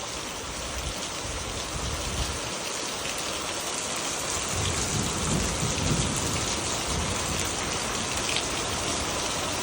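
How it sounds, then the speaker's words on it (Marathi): Heavy monsoon rain pours down in Mohol, Maharashtra, a dense, loud, unbroken hiss of drops on surfaces, with a low rumble of thunder swelling midway. "ईदाच्या कडकडासहित हा पाऊस पडतोय"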